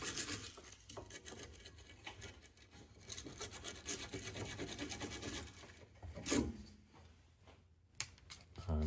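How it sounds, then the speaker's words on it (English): A wire brush scrubs dirt off an anti-roll bar drop link bolt on an Audi A6 C7, with faint, uneven rasping and scratching strokes and a few louder knocks, heard alone without talk. "we're going to just hit it with a wire brush"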